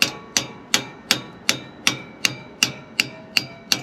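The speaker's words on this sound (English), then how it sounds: "So now we will hammer it back down again and see if it still gets stuck." Hammer strikes on a stuck valve lifter in a 1968 bus engine, eleven sharp metallic blows at an even steady rhythm, close and loud with ringing decay between hits.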